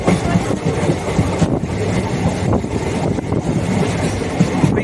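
A passenger train on the Trichy to Karur line rolls toward Muttarasanallur railway station, giving a steady, dense rumble and clatter of wheels and carriages heard close from on board, with no clear voices.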